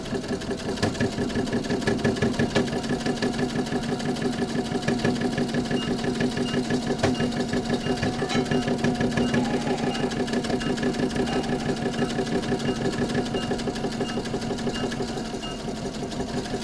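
A sewing machine free-motion stitching straight lines, its needle hammering in a fast, even mechanical rhythm with a steady motor hum, close and continuous throughout with no pauses and no voices.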